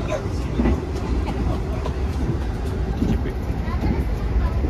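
A train riding on stiff, truck-like K10 bogies runs through Tambak station without stopping, giving a steady, loud rumbling roar with constant rattle throughout and no pause.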